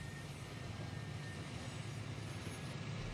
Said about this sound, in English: Stop! There's a train!